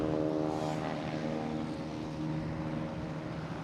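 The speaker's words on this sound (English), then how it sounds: "Next taking off is a JetBlue heading to JFK in A320" A JetBlue Airbus A320 bound for JFK takes off from Boston Logan Airport, a steady, moderately loud engine roar with a low droning hum that holds throughout the short stretch.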